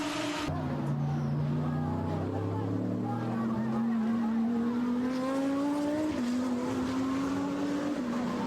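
GT3 race cars roar past on a circuit, a loud continuous engine drone with rising and shifting pitch as gears change, a commentator's voice running over the top throughout.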